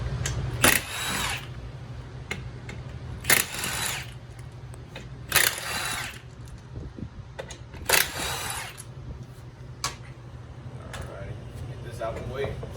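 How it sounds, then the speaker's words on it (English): A 17 millimeter lug nut is taken off a 2012 Polaris Ranger UTV rear wheel with a power tool, making four short loud bursts a few seconds apart over a low background hum, with occasional clicks and clanks between them. "We're gonna go ahead and take these lug nuts off."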